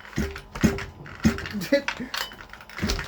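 A Rovan 30.5 engine being rebuilt is turned over by hand, giving a series of stiff mechanical clicks and ratcheting clanks in an uneven rhythm, close and fairly loud, with faint voice sounds in between.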